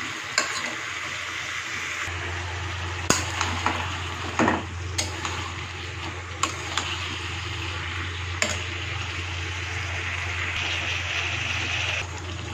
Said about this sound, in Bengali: ভালো করে আমি সবজিটাকে কিন্তু ভালো করে কষিয়ে নিব